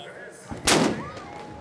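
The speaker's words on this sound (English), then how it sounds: "The cannon fired, and it was a loud cannon shot." A loud cannon shot starts the swim at an Ironman triathlon on an Indian Ocean beach, one sharp booming blast with a short rumbling tail over crowd ambience.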